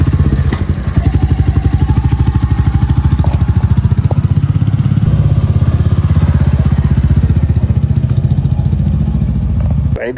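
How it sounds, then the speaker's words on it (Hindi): A Royal Enfield Meteor 350 motorcycle's single-cylinder engine thumps steadily at close range while crawling through a traffic jam, with a loud, continuous rhythmic putter and scattered street noise around it. "राइड करके आ गए अपने बाइक को"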